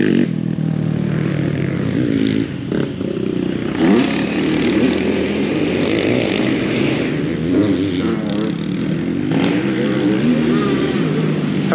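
Enduro motorcycles and a quad ride off-road in Germany, their engines droning and revving continuously at mid distance with rising and falling pitch, a few voices faintly underneath.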